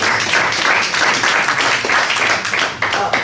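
A crowd keeps clapping for an honoree receiving an arts award, the dense applause rolling on with some talk mixed in.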